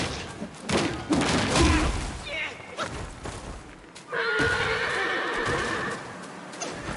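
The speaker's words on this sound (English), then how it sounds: "Why does bro sound like a horse?" An enemy in the video game Black Myth: Wukong lets out loud, horse-like neighs and whinnies in several bursts. Thuds and hoof-like clopping sit underneath, and a sustained bright cry rings out toward the end.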